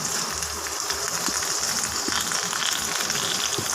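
Stuffed bhindi (okra) fries in a pan on low heat, giving a soft, even sizzle with light crackles throughout, close and without talk.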